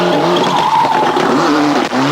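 A 1996 European Rally Championship car overshoots an asphalt corner, tires squealing in a long, loud skid over a roaring, revving engine, close and continuous throughout.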